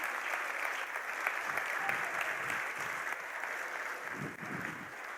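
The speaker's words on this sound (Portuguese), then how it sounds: "Aplauda o seu irmão aí do lado que cantou muito bem" Church audience applauding steadily, a dense wash of clapping from many hands that holds at an even level throughout, with faint voices now and then beneath it.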